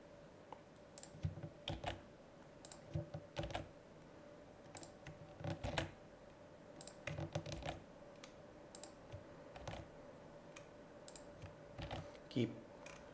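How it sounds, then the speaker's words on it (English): Keys on a computer keyboard are pressed over and over in short clustered taps, quiet and close, at an uneven pace with pauses between bursts, while someone edits an image in GIMP 2.8. "Keep clicking Control F."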